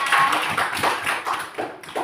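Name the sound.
children clapping hands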